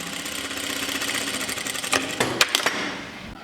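A sewing machine runs a steady line of stitching along a pressed fold on a shirt placket, then breaks into a few short, sharper bursts near the end, close and without talk.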